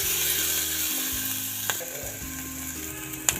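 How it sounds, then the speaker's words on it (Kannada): Green chillies and onion frying in a pan make a steady, close sizzle that runs throughout, with a few brief scrapes or clicks partway through. "ಹಸಿಮೆಣಸು ಹಾಕ್ತಾಯಿದ್ದೀನಿ. ನಾನು ಕೂಡ 2 ಸೆಕೆಂಡ್ ಫ್ರೈ ಮಾಡೋಣ."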